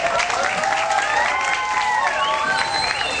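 A school audience gathered for a debate event applauds steadily, the dense clapping holding at a constant level throughout with some crowd murmur and voices mixed in.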